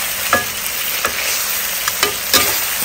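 Noodles fry and get stirred in a pan in a home kitchen. A constant loud sizzle carries several sharp scraping knocks from a utensil against the pan, and nobody speaks.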